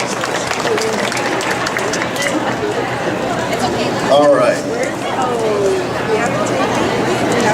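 Loud, sustained applause from a stage hypnosis show audience at a women's show, a dense wash of clapping and crowd chatter with a brief spoken voice on top.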